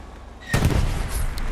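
A sudden heavy blast strikes a Panzer IV tank in the Hell Let Loose video game, a loud rocket impact with a rumbling tail and a few sharper cracks after.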